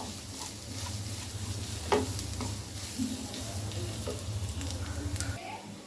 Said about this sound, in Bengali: পেঁয়াজ রসুন আমাদের একটু লাল করে ভেজে নিতে হবে।